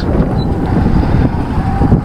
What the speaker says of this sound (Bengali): এক মনোমুগ্ধকর স্নিগ্ধ বাতাস বইছে এই নদী থেকে